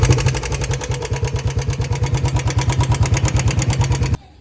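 A Royal Enfield Bullet motorcycle engine runs loud and close with a steady, rapid thumping beat and metallic clatter, cutting off abruptly near the end.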